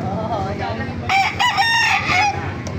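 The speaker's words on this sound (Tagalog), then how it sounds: "May mga manok dito mga master." A rooster lets out a single crow partway through, fairly close and clear, after a stretch of quieter ambient noise at a market in Baliuag, where roosters are displayed for sale.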